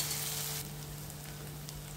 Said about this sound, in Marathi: आलं लसूण पेस्ट चांगलं भाजायचं म्हणजे त्याचा उग्र वास येत नाही